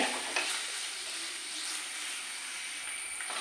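Continuous bright sizzle and hiss of fish curry masala cooking in a pot, steady and close, with no talking.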